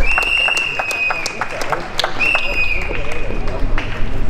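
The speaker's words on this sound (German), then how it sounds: "Großen Applaus!" Outdoor crowd applauding at a street demonstration in front of a government ministry, scattered clapping mixed with chatter and whistles, moderately loud and somewhat distant, with voices talking throughout.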